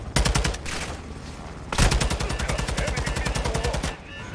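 Rapid automatic gunfire aimed at vehicles in Modern Warfare 2 rattles loud and continuous in fast repeated shots, with a brief break and a renewed burst partway through, and voices faintly under it.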